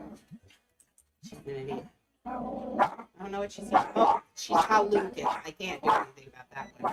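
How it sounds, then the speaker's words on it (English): A pet dog barks and yips in the background while a person talks loudly over it, the barking scattered and partly masked by the voice. "Sorry about the dog."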